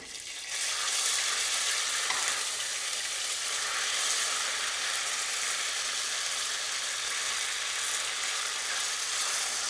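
Linguine hits a pan of brown butter for a Parmesan pasta dish, a broad, steady sizzle that swells in after a brief quiet start and holds loud and even to the end.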